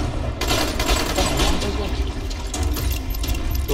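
Gunfire rings out in the zombie game Dying Light, a dense crackling barrage of shots that stays loud and steady across the whole stretch under a noisy game soundscape.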